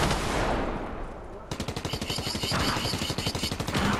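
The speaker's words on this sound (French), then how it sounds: "Ça tire de partout, c'est un truc de ouf." Rapid gunfire erupts from all sides in a Fortnite match, dense overlapping bursts of automatic shots following a whooshing rush, loud and continuous.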